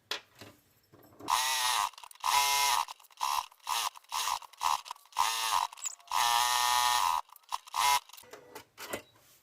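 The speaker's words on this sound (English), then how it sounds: "I'm just going to do a little edge stitch all the way around it." A sewing machine edge-stitches around fabric for a scissors holder, running in loud whirring bursts of rapid needle chatter broken by short pauses, close and with no talk.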